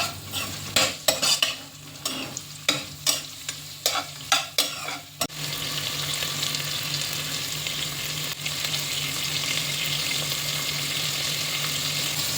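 Garlic, ginger, curry leaves and onion slices being stirred in a pot for dal khichdi, with about eight sharp, rhythmic scrapes of a spoon against the pot, then a steady close sizzle of frying, with no voices.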